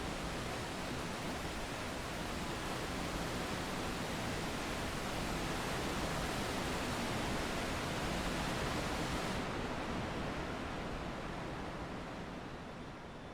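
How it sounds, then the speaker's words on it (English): Waterfalls near a monastery in Final Fantasy XIV: a steady, dense roar of rushing water that carries on evenly, then turns duller and more muffled toward the end. "we get this very pleasant sound of the waterfalls slowly becoming muffled"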